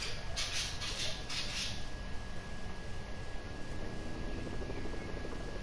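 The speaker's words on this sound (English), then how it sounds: "They're right there in the chopper." A helicopter flies nearby, its engine a steady, fairly loud drone with a few brief higher bursts early on, and no one talking over it.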